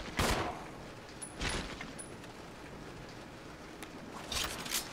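Gunshots in Resident Evil 0 HD, a handful of separate, fairly faint single shots spaced irregularly over low background ambience.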